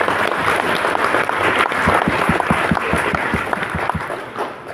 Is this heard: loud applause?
yes